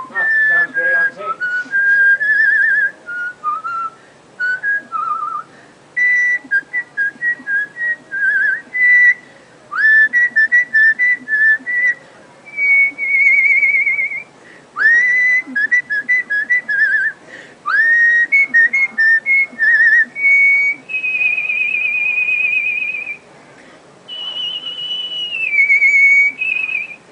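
A guest singer billed as a whistling diva whistles a song on a morning news program, a loud, clear melodic line of sustained and gliding high notes in phrases with short breaths between, alone without talk.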